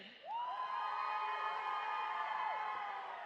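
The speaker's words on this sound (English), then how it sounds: "Who's cheering for Slytherin?" A crowd at a Harry Potter–themed roller derby bout cheers for Slytherin with a steady wall of whoops and high shouts that swell in and hold for about three seconds.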